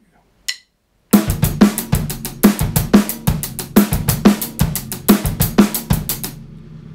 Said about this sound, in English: We could play with the dynamics of the left hand, make them both loud, sound like this.